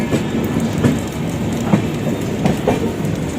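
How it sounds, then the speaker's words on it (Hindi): The Grand Trunk Express rolls past near Nagpur Junction on an Indian railway line, a steady rumble of wagons with rhythmic clickety-clack wheel beats, loud and continuous, with no talk. "इधर जा रहे ग्रैंड ट्रंक एक्सप्रेस।"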